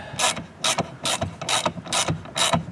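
A socket wrench ratchets as 6.3 by 20 screws are started into a part on a 2020-2025 Mercedes AMG GLE 53: five distinct, evenly spaced bursts of clicking pawl, close and crisp, with no voices.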